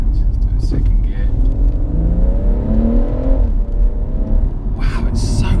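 A BMW M140i with a limited-slip differential accelerates hard in second gear, a steady engine drone rising in pitch over several seconds, heard from inside the cabin with voices speaking over it.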